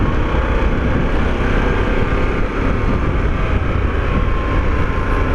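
A 2021 Harley-Davidson Pan America motorcycle on the road, a steady loud roar of engine and rushing wind filling the whole stretch without pause, heard from the rider's position.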